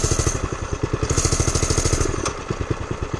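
A small pit bike engine runs steadily, loud and close, with a rapid, even, throbbing exhaust pulse and a brief rise in revs partway through; no one speaks.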